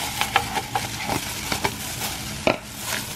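Vegetables being mixed by hand for vegan kimchi, soft wet squishing and stirring with several sharper rustling accents, close and steady, no talk.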